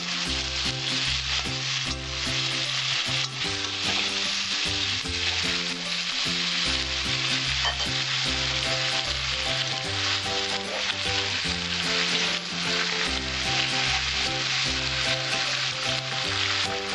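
Catfish and vegetables fry and get stirred in a hot pan. A dense, loud sizzle runs the whole time with repeated scraping stir strokes and no voices.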